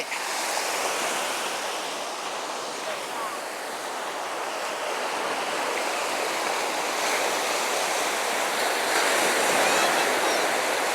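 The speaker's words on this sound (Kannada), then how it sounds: "ಆ ಅಲೆಗಳ ಸದ್ದು ನೋಡ್ರಿ ಹೇಗಿದೆ" Ocean surf rolls in at Tannirbhavi Beach in Mangaluru, a broad continuous roar of breaking waves close by, with wind buffeting the microphone throughout.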